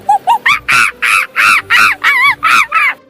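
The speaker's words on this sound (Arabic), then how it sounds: "monkey," A monkey gives a rapid series of about ten loud, nasal calls, starting with two short rising hoots and then chattering bursts in steady rhythm, close and alone.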